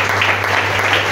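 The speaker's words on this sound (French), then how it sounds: "Acclame, acclame, acclame." A church congregation at a Thursday teaching service applauding, a dense continuous wash of clapping over a low hum, loud and close.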